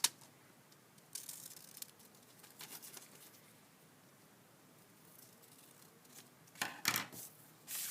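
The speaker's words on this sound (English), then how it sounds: "So you just cut around the outside edges." Scissors snip through a paper template in short, crisp cuts, several quiet clips spread out with a louder burst near the end, no talking.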